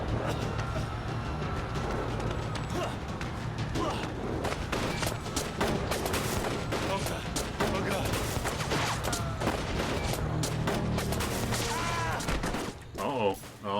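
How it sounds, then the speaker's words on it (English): Soldiers firing volley after volley of gunshots in the game 1979 Revolution: Black Friday, a dense, continuous barrage of loud cracks and bursts with voices mixed in, ending abruptly. "The soldiers are shooting."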